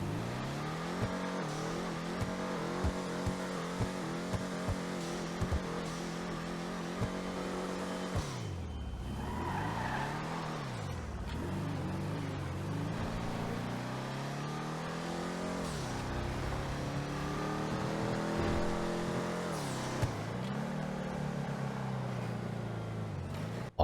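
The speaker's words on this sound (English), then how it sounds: "Honestly, this car sounds pretty good." Classique Broadway car engine in GTA Online, loud and close, idling with a rough pulsing burble before revving up and down in several swelling, falling sweeps, with no talking.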